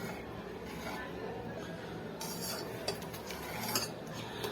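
Dal being mixed with fresh coriander in a bowl, heard as a steady soft scraping and clinking of a spoon against the dish, continuous and close, with a few sharper taps toward the end.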